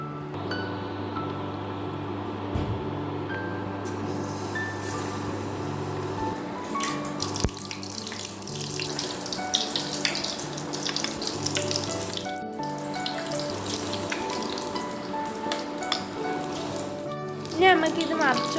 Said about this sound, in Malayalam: ഇനി നമുക്ക് ഈ ഡേറ്റ്സ് ഓരോന്നെടുത്ത് ഈ ബാറ്ററിൽ മുക്കി എണ്ണയിലേക്ക് ഇട്ട്